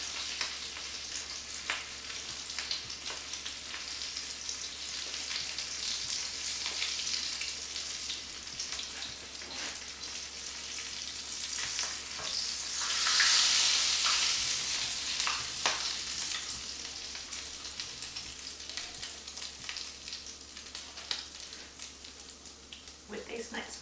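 Batter for Sri Lankan pancake rolls sizzles and fries in oil in a small pan, a steady crackling hiss that swells briefly midway, with people talking throughout.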